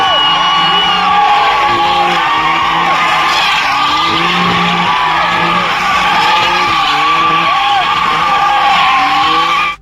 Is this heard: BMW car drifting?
yes